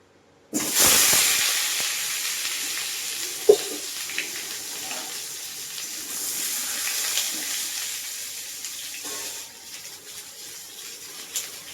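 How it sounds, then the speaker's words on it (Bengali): Potato and papaya pieces dropped into hot oil set off a sudden loud hiss, then a steady crackling fry that softens toward the end, with a few clinks of a utensil and no talking. "তেল গরম হয়ে গেছে এবার আমি এই যে আলু আর পেঁপেটা হালকা করে ভেজে নেব"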